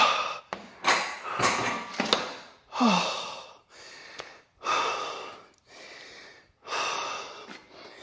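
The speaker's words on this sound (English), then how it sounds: "He was like breathing right in my face." Heavy, loud breathing right up close during a leg workout set in a gym: a series of forceful exhales and gasping inhales in an uneven rhythm, with a few taps in between.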